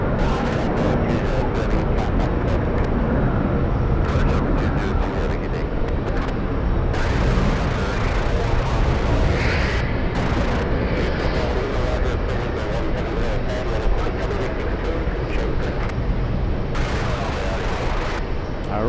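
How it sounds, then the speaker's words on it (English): A Delta Airbus A330 jet takes off at JFK Airport, a broad continuous roar rumbling across the whole stretch, heard from a distance under intermittent crackling bursts and faint background voices. "We do have an Airbus A330 Delta taking off."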